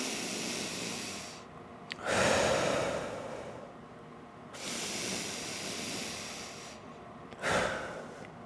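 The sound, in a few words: breathing in through the nose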